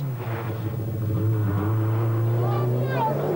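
A 1985 Peugeot rally car at the Monte Carlo Rally, its engine droning steadily with rising revs, heard under a commentator's voice throughout.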